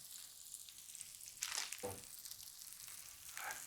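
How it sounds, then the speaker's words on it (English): Slider buns toasting in a hot pan, giving a soft, steady sizzle with a few brighter crackling bursts and a brief louder flare partway through, close and fairly quiet. "I'm gonna start toasting our little bunsies here"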